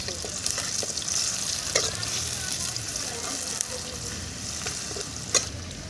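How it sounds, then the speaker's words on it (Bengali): A bowl of chopped onion frying in white oil, stirred with a spatula, giving a steady close sizzle with occasional scrapes and taps of the spatula against the pan, faint voices in the background. "এখন এর মধ্যে দিয়ে দিচ্ছি 1 বাটি পেঁয়াজ কুচি। খুন্তির সাহায্যে একটু নেড়ে দিচ্ছি।"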